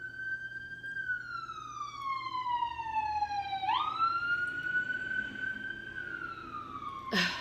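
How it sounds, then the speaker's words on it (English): City ambulance siren wailing as it drives by, a single rising and falling electronic tone sweeping down then jumping up, moderately distant and steady, with faint background hum and no talking. "I live in the big city and the ambulances, first responders are always driving by."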